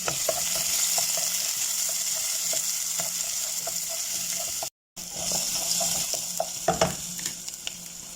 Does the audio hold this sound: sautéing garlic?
yes